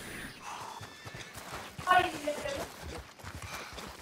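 A horse in the Red Dead Online video game clip-clops steadily and gives a loud whinny midway, with game ambience and voice-like sounds mixed in.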